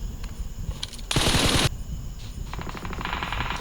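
Gunfire in PUBG Mobile: a rapid automatic burst crackles loudly for about half a second amid steady background game noise, followed by further lighter rattling fire.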